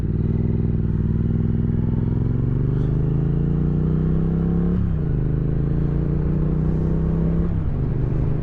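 A 2023 Triumph Speed Twin 900 engine drones close and steady while riding, its low parallel-twin hum rising through the gears with two brief dips at shifts, loud and continuous without speech.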